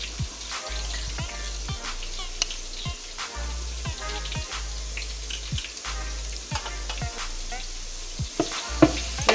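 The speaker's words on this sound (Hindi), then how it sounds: "लहसुन को ऑयल में फ्राई कर लेंगे।" Garlic ginger paste fries in hot oil with a continuous sizzle, and a spoon scrapes and stirs the pan in regular strokes, close and prominent, with no one speaking.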